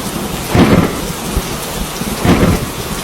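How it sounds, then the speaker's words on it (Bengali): A cartoon thunderstorm effect with rain: a loud, steady rain hiss broken by two heavy rumbles of thunder, with no voices. "তার পরের দিনই গ্রামে এক বিশাল ঝড় হলো।"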